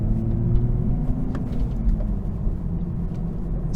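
A 2023 Toyota Supra 3.0L manual driving at low speed, its engine giving a steady, smooth low rumble with a faint road-noise hiss and no sharp revving, heard from inside the car without talk.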